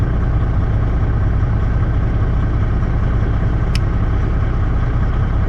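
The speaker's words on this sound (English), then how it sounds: "Now your fan is actually engaged." A truck engine idles steadily with its cooling fan engaged, a loud, constant low rumble and whoosh running unchanged throughout with no talk.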